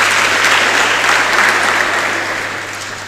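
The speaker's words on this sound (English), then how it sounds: "can you give Cherno another big round of applause?" Audience applause at a national youth dialogue on reforms in The Gambia, a dense, sustained clapping from a large crowd that stays loud throughout and fades slightly toward the end, with no voices over it.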